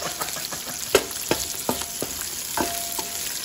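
Onions fry in a pan for a pork hock dish, giving a steady sizzle broken by several quick scraping strokes of a utensil as they are stirred.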